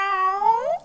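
A cat gives a single drawn-out meow with a rising, wavering tone, clear and close in a quiet room.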